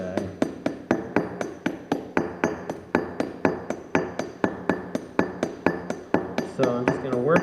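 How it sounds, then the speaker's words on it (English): A brass rivet for a leather tool belt being peened on a railroad-track anvil, about two dozen sharp, evenly paced metallic hammer strikes ringing close and loud, with no talk. "now I can really get a nice mushroom going on this guy"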